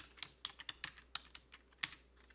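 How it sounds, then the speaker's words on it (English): Quick, light clicks of fingers typing on a computer keyboard come in an uneven run of keystrokes, close and fairly quiet, with no voices. "So let's type in Danielle."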